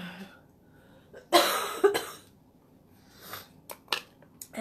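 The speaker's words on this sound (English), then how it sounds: "And there's that cough." A woman's dry coughs while working on 3D stencils, a sharp loud burst followed by several smaller coughs and throat-clearing spaced over a few seconds in a quiet room.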